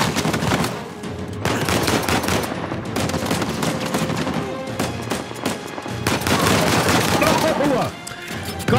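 Enemy gunfire in the video game Uncharted 4, sustained loud automatic bursts and shotgun blasts crowding together, with a player's voice talking over the dense shooting.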